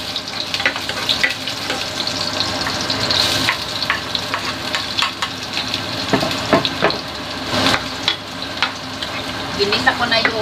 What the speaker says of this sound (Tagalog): Ginis ako na yung uno, bawang sibuyas